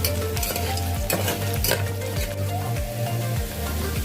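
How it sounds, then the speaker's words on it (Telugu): Vegetables for a Godavari-style veg pulao fry and sizzle steadily in a pan, with repeated scraping strokes of a stirring spoon and occasional metallic clinks, close and continuous with no talk. "ఒక 5 మినిట్స్ ఇలా ఫ్రై చేసుకుంటే కొంచెం పచ్చివాసన అంతా పోతుంది"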